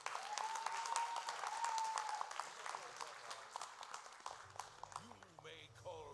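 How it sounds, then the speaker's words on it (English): A convention audience at a cosplay show claps steadily for several seconds, faint and somewhat distant, with a thin tone and a voice entering near the end. "Big applause, please."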